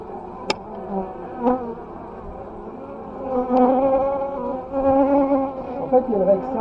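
Honeybees drone steadily at an opened hive exposed to light, a dense, close buzzing cloud that wavers in pitch, with a few sharp clicks standing out.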